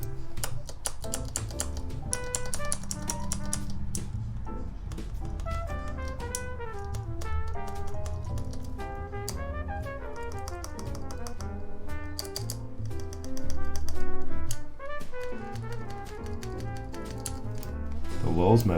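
Mechanical keyboard keys with freshly tuned stabilizers on a Lin Whale build with TTC Skylar switches clack in quick, irregular bursts of typing close up, with background music underneath.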